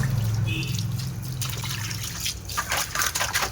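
Fish pieces for a fish, potato and bitter gourd dish being washed under running water, a close liquid trickle and splashing with a low hum at first and brighter splashes near the end, no talking.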